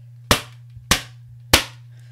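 Three loud, sharp knocks struck in an even rhythm, a hand imitating hard bangs on a glass window, each crack decaying quickly over a low steady hum.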